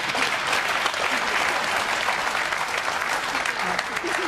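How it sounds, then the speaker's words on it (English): A television debate audience claps together in a loud, dense, sustained burst of applause filling the studio, steady from start to finish with no pause. "Here you are all clapping"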